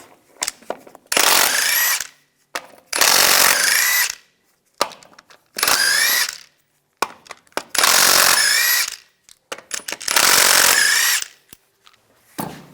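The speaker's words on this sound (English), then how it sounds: "Using a 21mm socket, take the lug nuts off." Power impact tool spinning lug nuts off a 1998-2002 Lincoln Navigator wheel with a 21mm socket, in five loud whirring bursts separated by short silences and small clicks.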